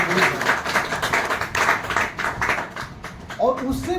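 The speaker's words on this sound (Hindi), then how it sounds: "उनके लिए साथियों एक बार जोरदार ताली होना चाहिए।" An audience at a meeting claps together in rhythmic bursts, fairly close and loud. Near the end the clapping thins out and a voice speaks.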